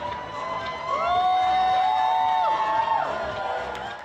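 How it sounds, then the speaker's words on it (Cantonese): Crowd cheering along a Hong Kong waterfront during a giant cartoon balloon parade, a distant wash of voices swelling and holding with children's high shouts and whistles rising above it. "觀眾就一邊歡呼"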